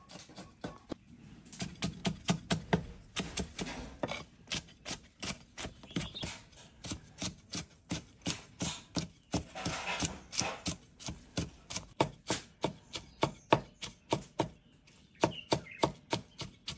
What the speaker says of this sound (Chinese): 把生姜、大蒜、小米辣给它剁碎